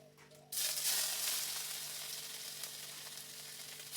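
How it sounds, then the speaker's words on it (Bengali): Whole cumin seeds hit hot oil with a sudden loud sizzle that holds as a bright, crackling hiss, easing slightly as the spice is stirred, with no talking. "দিয়ে দিলাম গোটা জিরে। ফোড়নটাকে ভালো করে নেড়ে চেড়ে ভেজে নেব।"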